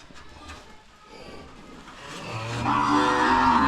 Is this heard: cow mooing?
yes